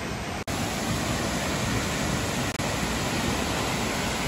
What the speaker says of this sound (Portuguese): Cachoeira do Sobradinho.